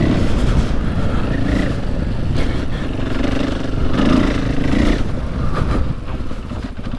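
A Husqvarna 501 FE dirt bike ridden on slick grass in Oregon, its engine droning steadily up close with a few throttle surges and gear changes, slightly wind-buffeted.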